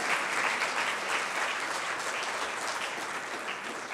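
A church congregation claps in sustained, dense applause at an evangelical service, loud and steady throughout with no break.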